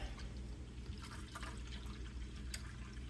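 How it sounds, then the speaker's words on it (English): Milk pouring into an Instant Pot to make homemade yogurt, a steady low liquid rush with a few brighter splashes, close and continuous with no talking. "I'm just gonna pour the milk in until it's at the top"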